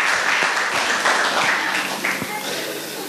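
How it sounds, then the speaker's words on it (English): An audience applauds after a live song performance by three singers at an indoor session, a steady patter of clapping heard under a speaking voice. "give a big round of applause to all three of them"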